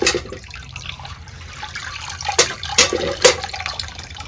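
Water runs and splashes while a sweet gourd is washed in a home kitchen, with a faint steady trickle broken by a few louder splashes and drips near the end.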